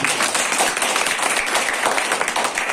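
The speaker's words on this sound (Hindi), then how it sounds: "एक बार तालियां ऐसे महापुरुष के नाम।" Dense, steady applause from a large audience fills the room at a Delhi Holi gathering of the Dhangar community marking the 329th birth anniversary of Maharaja Malhar Rao Holkar. The clapping is close, loud and continuous throughout.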